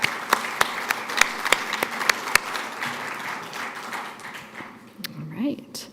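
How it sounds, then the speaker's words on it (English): Audience applause at a conference session, scattered close claps over a broad patter of clapping that thins out toward the end, with a brief voice near the close. "let's give them a round of applause"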